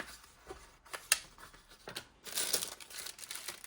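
Scissors cut through paper for a simple collage, producing a few close snips and crinkles followed by a longer rustling cut. No one speaks.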